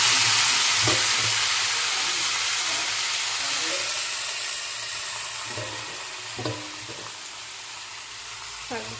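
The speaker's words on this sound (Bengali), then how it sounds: "তো চলো শাকটা ভেজে নিই।" Leafy greens (shak) fry in a pan in a home kitchen. A loud, steady sizzling hiss fills the whole clip and slowly eases, broken by occasional clinks and scrapes of a utensil stirring. There is no talking.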